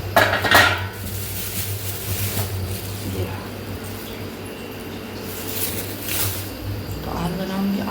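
Metal kitchen pots and utensils clink and clatter while lunch is being prepared, with sharp knocks near the start and around six seconds over a steady low hum and soft background noise.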